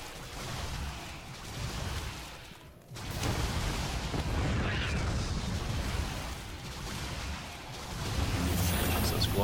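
A missile turret is destroyed in StarCraft 2 during a Terran versus Zerg match, with a dull explosive burst inside a dense wash of continuous battle noise and a brief drop in loudness partway through.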